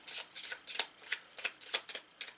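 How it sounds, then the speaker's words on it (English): Dark power cards from a solo board game setup are shuffled close up at a tabletop, giving a quick series of crisp riffling bursts in a steady rhythm, with no talking. "Give them a good shuffle."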